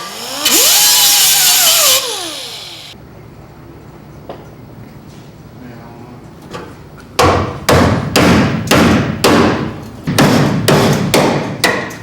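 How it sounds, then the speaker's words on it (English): Repeated sharp metallic strikes from a scraper being driven between spot-welded steel car body panels during muscle car restoration, about eight loud, evenly spaced hits close by, following a brief burst of power tool noise. "It's a scraper that I use. I was separating the panels."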